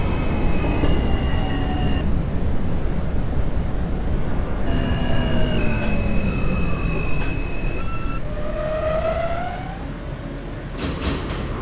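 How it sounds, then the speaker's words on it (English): An R160 subway E train in the OpenBVE simulator hums along with rising and falling electric motor whines layered over a steady rolling rumble, ending with a brief burst of higher noise. "This is a World Trade Center bound E train."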